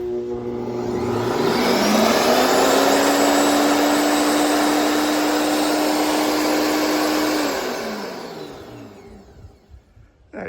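Yeryork wood chipper starting up: a motor whines up to a loud, steady high-pitched whirring roar that holds for several seconds, then winds down and fades to quiet clatter.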